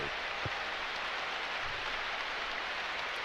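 Steady rain hisses across a football field in ESPN NFL 2K5, a dense even wash of noise with a couple of faint low thumps underneath.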